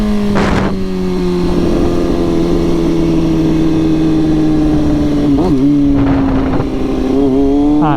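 A motorcycle fitted with a new exhaust pulls hard, its loud engine note climbing steadily through the revs with a quick shift break midway, heard up close from the rider's position with wind noise.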